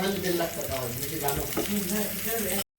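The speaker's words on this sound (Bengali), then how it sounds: "এই যে বেগুনগুলো ভেজে নিচ্ছি" Oil sizzles steadily in a pan as eggplant pieces fry, close up, while a person talks over the crackling.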